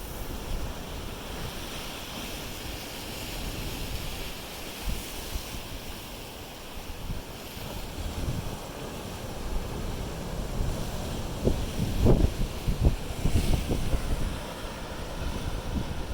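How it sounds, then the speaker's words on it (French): Broad, steady roar of surf with waves breaking and washing in at an island blowhole, heavier crashes toward the end, mixed with wind buffeting the microphone. "De voir ces vagues venir s'écraser devant ces belles montagnes."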